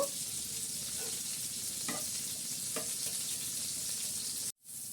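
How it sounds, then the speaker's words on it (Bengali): Sliced onions fry in hot oil in a pan until golden, a close, continuous crackling sizzle with a few soft stirring taps, then a sudden brief dropout near the end before the sizzle returns. "পেঁয়াজ দিয়ে দিলাম আমি এখানে, আর পেঁয়াজটা একটু গোল্ডেন করে আমি ভেজে নেব"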